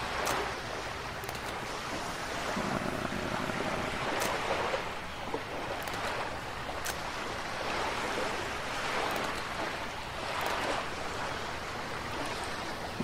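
Loud water noise in the Archlord 2 video game forms a continuous rushing wash of waves that swells and eases gently over several seconds, with no one talking.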